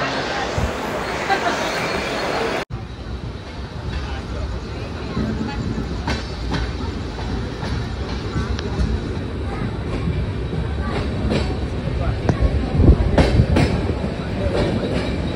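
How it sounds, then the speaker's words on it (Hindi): A passenger train pulling into Solapur station, with a continuous heavy rumble and rattle of the carriages and faint clicks from the wheels on the rails. Faint murmuring voices sit under the train noise. "आपण आता पोहोचतो सोलापूरला. तर आपली ट्रेन थांबली."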